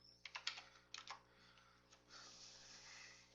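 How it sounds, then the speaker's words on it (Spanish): A computer keyboard is typed on in a few quick bursts of close, crisp keystrokes, then a softer rustle follows over a faint steady hum in a quiet room. "A ver, déjame teclear."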